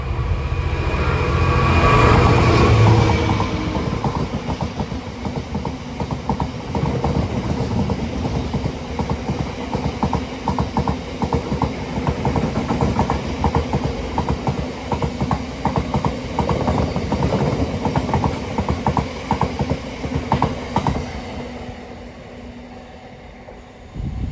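A heavy Class 66 diesel freight locomotive passes close by on the West Coast Main Line at Acton Bridge with a loud engine roar, followed by a long steady rumble and rhythmic clatter of wagons that fades away.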